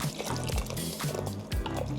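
Thick coconut cream poured into a pan of simmering chicken curry, producing a glugging, gurgling liquid pour with soft repeated plops, close and fairly loud throughout.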